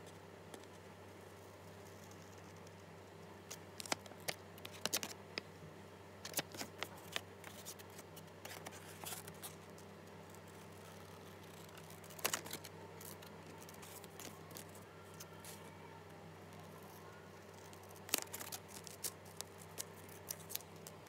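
Scissors snipping through a paper measuring guide for sizing a breast pump flange, quiet crisp cuts in irregular bursts with pauses between, close up against a faint steady background hum.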